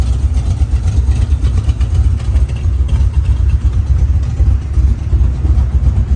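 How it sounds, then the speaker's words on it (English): A 1963 Chevrolet C10 Custom Deluxe pickup with a 350 V8 idles close by, its exhaust giving a loud, steady, throbbing low rumble with no voices over it. "Listen to that exhaust."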